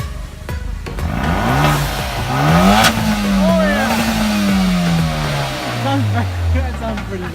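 A car engine at a car meet revs up and holds high, its steady droning pitch rising and falling, loud and close while voices shout and talk over it.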